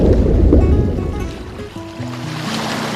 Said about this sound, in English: Splash. Splash.